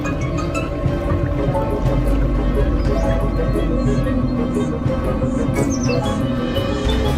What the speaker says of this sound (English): The chicks whistle gently as they forage.